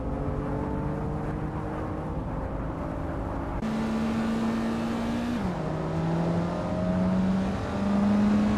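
Race cars in a video game, including a Toyota Chaser and Renault Clio, circling a tight track with steady droning engines, one engine shifting pitch as it revs and drops through corners; loud and continuous with no talk.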